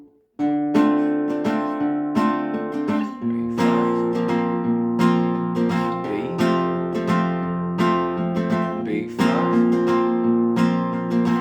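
A stringed instrument played slowly and alone, with distinct plucked notes and chords ringing out and overlapping, clear and close.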